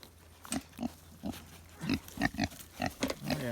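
Pigs let out onto silvopasture grunt in short, repeated bursts, about a dozen close grunts spaced irregularly over a low outdoor background with no talking.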